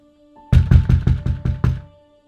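Six firm knocks on a door in quick succession, loud and close, with a brief pause before the last one, with no voices.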